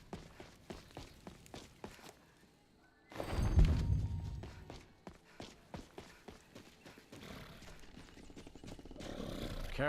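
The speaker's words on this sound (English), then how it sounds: "I guess we could just take the carriage there." Horse hooves of a carriage in Skyrim with the LoreRim modlist clop in a steady rhythm, fairly close, before a loud rumbling burst of game sound, then continue under faint ambient noise.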